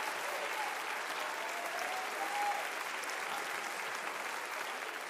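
A church congregation claps and applauds in a dense, even wash that holds steady throughout, moderately loud and without talk over it.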